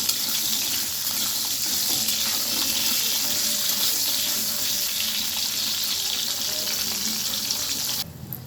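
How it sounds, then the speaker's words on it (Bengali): Steady, dense sizzling of lentil dumplings (bori) frying in hot oil in a wok, loud and continuous throughout, with no voices. "এবারে আমি বড়িগুলো ভেজে নেব।"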